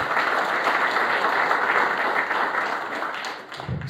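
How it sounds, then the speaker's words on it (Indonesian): Dense, continuous applause fills a church hall as the congregation claps together, a loud wash of overlapping handclaps that thins slightly near the end. "Tepuk tangan yang terbaik buat Tuhan."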